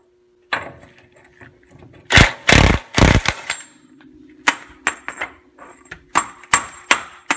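Impact wrench or ratchet removing the pitman arm nut on a Ford Bronco steering box, with two long loud bursts and a string of shorter rattling pulses over a steady low hum, close up.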